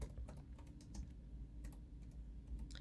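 Code being typed on a computer keyboard, soft close keystrokes in irregular bursts and single taps over a low background hum.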